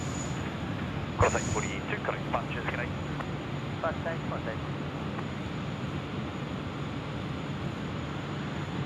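An airliner climbing away after takeoff from Sydney Airport in wet, cloudy weather gives a steady distant roar, with people talking over it.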